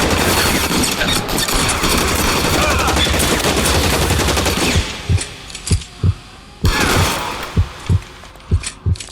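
A fierce gunfight in the video game L.A. Noire: continuous loud rattling gunfire for about five seconds, then a series of separate heavy shots spaced out, with a brief burst of firing in between.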